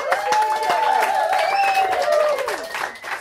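Live show audience keeps clapping for the host Abby, a dense patter of hands beneath sustained tonal voices or cheering that fades near the end.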